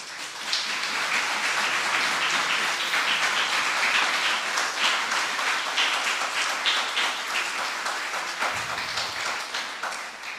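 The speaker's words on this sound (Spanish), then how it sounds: "Denle un fuerte aplauso al Rey de Reyes." Strong sustained applause from a church congregation during a sermon, a dense steady roar of many hands lasting about ten seconds and tapering slightly at the end.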